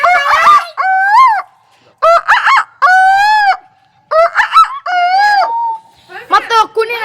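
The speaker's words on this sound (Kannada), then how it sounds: "ಹುಂಜು ನಮ್ಮ ಆಲ್ಮೋಸ್ಟ್ ಎಲ್ಲ ಆಗಿನ ಅಜ್ಜ ಅಜ್ಜಿಗಳನ್ನ ಹೇಗೆ ಎಬ್ಬಿಸುತ್ತೆ" A rooster crowing in loud, close calls that repeat several times in bursts, with short silent gaps between them.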